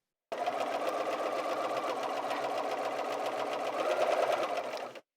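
A Bernina 530 sewing machine stitches fabric run along a seam guide, with a steady, fast, even whirring hum lasting about five seconds before stopping, close and alone.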